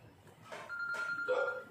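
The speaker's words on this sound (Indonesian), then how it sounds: "Ada telepon masuk." Telephone ringing with an incoming call, a few short electronic tone bursts, moderately loud and close, with no talk over them.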